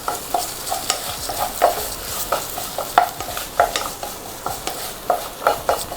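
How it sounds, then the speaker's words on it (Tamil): A utensil stirs Jamaican brown stew chicken in a sizzling pan, giving repeated scraping strokes in an uneven rhythm over a soft frying hiss, close and clear with no talking. "இப்போ ஓப்பன் பண்ணி ஒரே ஒரு வாட்டி மட்டும் மிக்ஸ் பண்ணி விட்டுக்கோங்க."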